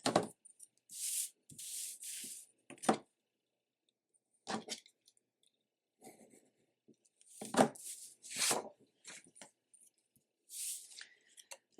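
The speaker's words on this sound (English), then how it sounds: "So I am just gonna cut this just this way." Scissors snip and slide through craft material for a small Christmas tablet cover, quiet close cuts in short bursts separated by pauses.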